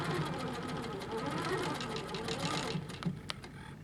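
A sewing machine runs steadily, stitching a straight seam along a quilt border with a hopping foot and rulers, its rapid even needle patter holding close and constant before a few slower separate stitches near the end.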